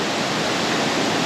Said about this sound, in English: it's not a very fast moving waterfall because it's hitting all these rocks, the steps all the way down